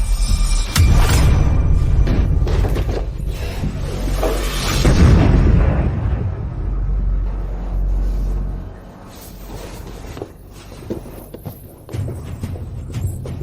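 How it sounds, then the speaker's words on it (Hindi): A dynamite explosion in a drama booms loud and close with a deep rumble that swells, surges again, then slowly fades. "लगता है वह नहीं धमाके से बच पाया। उसका अपना डायनामाइट उसे मार डाला।"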